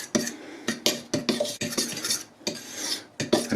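White pepper, black pepper and salt being mixed through chicken hearts in a bowl, a close, rapid run of scraping, rubbing strokes with irregular rhythm and no talk.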